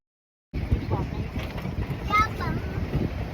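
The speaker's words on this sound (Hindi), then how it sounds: "रास्ते में इतनी ठंडी हवा चल रही थी, आप देख सकते हैं हम जब जा रहे हैं तो बहुत ही ठंडी हवा चल रही थी" Cold wind rushes past on a forest road near Kumbhalgarh, a loud, steady buffeting roar against the microphone that starts abruptly and carries on, with faint chirps and a brief muffled voice in the background.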